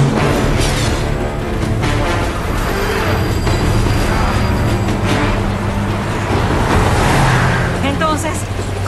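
A car engine roars and accelerates in the action video game Uncharted 2, a loud continuous drive mixed with game music and characters talking over it.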